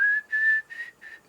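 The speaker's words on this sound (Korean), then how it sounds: "휘파람으로 그냥 라인을 뭐 대충 이렇게 짜봤던 거죠" A person whistles a short melody sketching a guitar line in four clear, close, pitched phrases, with a gentle rise and brief gaps between notes and no speech.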